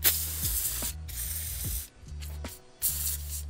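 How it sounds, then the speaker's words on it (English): Bursts of penetrating oil hissing from an aerosol can onto Fox Body tie rods, three long sprays with short pauses between, close and loud over a low mechanical hum. "let's spray a liberal amount on everything."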